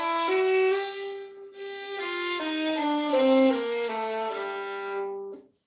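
Solo violin bowing a slow descending melodic minor scale, each note sustained and clear with a short gap near the start, loud and close, no talking.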